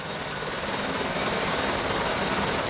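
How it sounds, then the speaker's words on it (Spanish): A DGT Pegasus traffic helicopter flying over the main roads out of Madrid, its rotor and engine a loud, steady, close drone with no pauses and no voices. "Ese helicóptero lleva una hora sobrevolando las principales carreteras de salida de Madrid."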